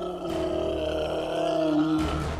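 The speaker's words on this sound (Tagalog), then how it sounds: "atungal ang aswang" A long, deep, sustained roar of a monstrous aswang creature, loud and close, with growling harmonics that rise and strain before breaking off near the end.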